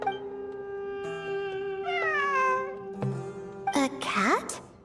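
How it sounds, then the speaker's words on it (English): A cat meows in the video game Genshin Impact during ruins exploration: a few drawn-out, wavering mews over a steady, tonal game soundtrack, ending in a brighter, rising cry. "It really is a cat."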